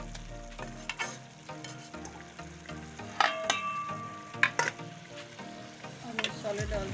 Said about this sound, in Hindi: मसाला हमारा अच्छी तरह फ्राई हो गया है।